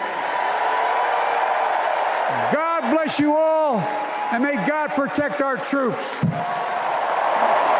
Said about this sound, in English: Oh, the crowd is roaring.